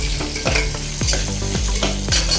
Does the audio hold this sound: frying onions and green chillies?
yes